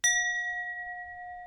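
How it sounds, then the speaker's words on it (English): A small meditation bell is struck once, a clear bright ding that rings on with a long, pure sustained tone, close and alone in a quiet room. "So got a nice little meditation bell. Can you guys hear this when I ding it?"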